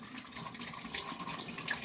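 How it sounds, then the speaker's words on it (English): Running tap water splashes steadily as slurry is rinsed off a Japanese natural or Thuringian honing stone, a continuous moderate hiss and patter without speech. "So I'll wash off the slurry."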